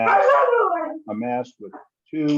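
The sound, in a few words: dog barking in the background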